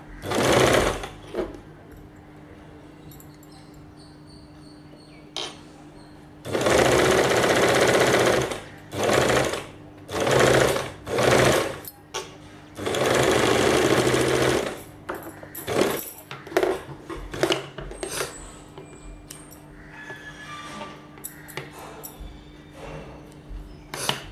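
Sewing machine stitching the end of a kameez boat neck, running in several loud bursts of rapid needle chatter, separated by short pauses and quieter handling noises, with no talk.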